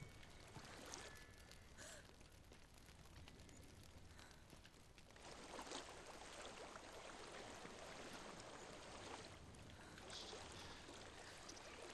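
Flowing water in the video game Hellblade, a steady broadband rush filling the whole stretch alone, growing fuller and louder partway through with no voices.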